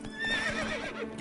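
A horse in the video game The Witcher 3 lets out a short whinny, rising and falling over about a second, fairly close.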